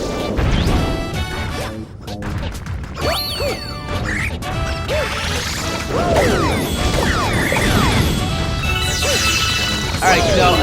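Dense game sound from Super Mario Galaxy 2 as rolling in rock form with the rock power-up crashes and smashes through enemies, with repeated loud impacts, whooshes and chiming effects over music for several seconds.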